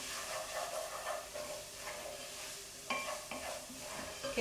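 A spoon stirs tomato pasta sauce in a pan, a steady soft scraping over a low sizzle and hiss, with a couple of sharper knocks against the pan near the end and no voices.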